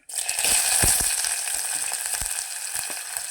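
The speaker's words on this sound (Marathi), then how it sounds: "आता मी यात कांदा टाकत आहे." Chopped onion drops into hot oil in a pressure cooker and fries with a loud, steady crackling sizzle, punctuated by a few sharper pops and stirring knocks, with no voices.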